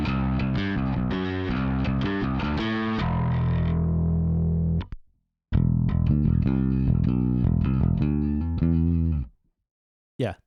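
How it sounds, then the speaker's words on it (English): A bass guitar plays through a Rat distortion pedal, with gritty, fuzzy notes in two phrases separated by a short silence, ending with a brief burst. "the distortion pedal taking away all of the low end"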